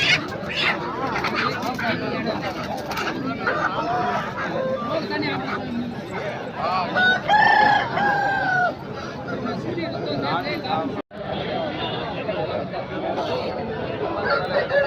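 Rooster crowing amid a busy Peeleru weekly market, a Parla-breed cock about ten to eleven months old, with loud crowd chatter and talk throughout and a drawn-out crow rising over the din midway.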